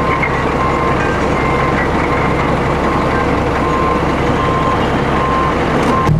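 Mining haul trucks rumble through a pit while a reversing alarm beeps steadily over the heavy, continuous engine drone, which stays loud and close the whole time.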